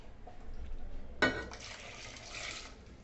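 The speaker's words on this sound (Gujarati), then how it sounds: "એમાં 2 ગ્લાસ પાણી નાખી દઈએ." Water is poured into a pressure cooker holding washed potatoes. A quiet pause is followed by a sudden splash and a steady pouring stream that runs for almost two seconds.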